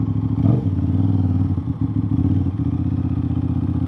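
An Aprilia RS660 motorcycle with an aftermarket exhaust rumbles close by with a throaty, pulsing idle, punctuated by a quick blip of revs early on and a few small pops and clatters.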